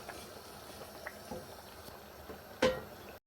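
Chicken and courgette simmer in a pan as their water cooks off, giving a faint, steady bubbling with small pops and one sharper sizzle near the end.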